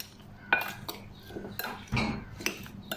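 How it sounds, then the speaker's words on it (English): A utensil clinks and scrapes against a bowl while oiled, paprika-coated food is tossed together, with irregular close knocks and stirring sounds and no talking. "So mix it nicely, get that oil coating over everything."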